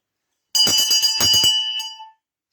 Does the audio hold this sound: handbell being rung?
yes